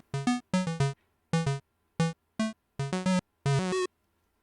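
Short Pico-8 chiptune melody for a brawler game, bright square-wave notes in quick clustered phrases with brief gaps, loud and clean with no talk.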